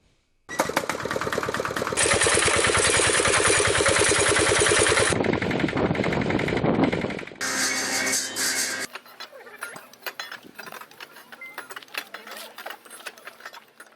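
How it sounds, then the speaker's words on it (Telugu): A loud weeding machine built from an auto-rickshaw engine, two-wheeler chains and bearings roars close by with rapid mechanical clatter, then cuts out, leaving softer intermittent rattling and field noise. "ఆటో ఇంజిన్, ద్విచక్ర వాహనం చైన్స్ ప్యాకెట్లు, 2 బేరింగ్ సెట్లతో తయారైన ఈ కలుపు యంత్రం రైతుల పొలాల్లో దూసుకెళుతోంది"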